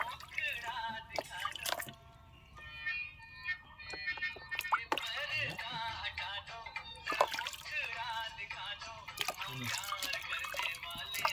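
During a small child's bath, water drips, trickles and splashes softly in short bursts, close by, while people chatter and talk throughout.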